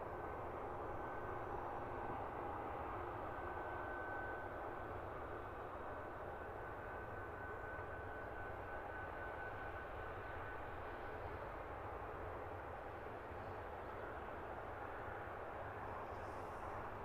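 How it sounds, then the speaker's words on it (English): Light aircraft passing over London Luton Airport, a steady low engine drone that holds evenly throughout, moderately loud and continuous with no talk. "you get light aircraft flying over the top"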